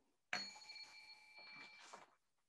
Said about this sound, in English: I do the bell.